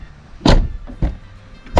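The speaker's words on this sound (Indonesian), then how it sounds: "pintu kiri depan, suaranya harus jelem gitu ya." Front left door of a Kia Carnival diesel van slamming shut with a solid, heavy thud, followed by two softer knocks and another thump at the end, close and loud.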